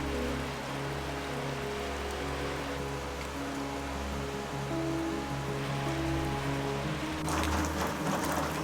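Steady rain falls on a spring day, a dense even hiss that carries throughout, with sustained musical tones underneath and a brighter, louder patch of rainfall near the end.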